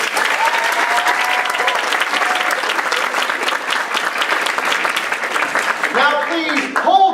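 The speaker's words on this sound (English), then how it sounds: "Give them a round of applause as well." Sustained audience applause fills a gala hall, steady and dense throughout, with a few cheers and raised voices near the end.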